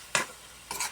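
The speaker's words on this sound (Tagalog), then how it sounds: "I-mekos-mekos din natin para maganda yung pagkainit." A utensil scrapes twice through simmering leftover sapsap fish in a pan, two short stirring strokes over a soft bubbling sizzle.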